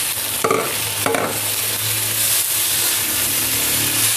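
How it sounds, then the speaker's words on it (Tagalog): Onion and tomato sauté in a pan for a monggo dish, a loud constant sizzle broken by two quick scraping stirs near the start. "Hintayin lang natin maluto yung onion. Pwede na natin isunod yung ating 4 na piraso na kamatis."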